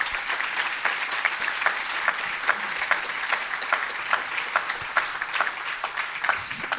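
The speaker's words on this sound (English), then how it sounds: "I hope we can all give them a quick round of applause for all their hard work." Applause at a member meeting, a room of people clapping steadily with some distinct nearby claps punctuating the continuous patter for nearly seven seconds.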